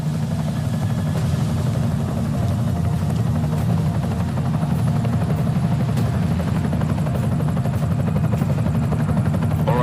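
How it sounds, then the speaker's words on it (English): An enemy helicopter in the video game Deus Ex: Mankind Divided gives a steady, loud, droning rotor roar with a deep low rumble that holds unbroken throughout. "Enemy helo sighted."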